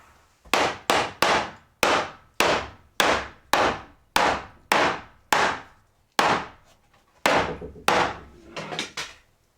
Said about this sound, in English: What I'm doing first is just loosening the boards to give me a little bit of wiggle room between the studs and the wood wall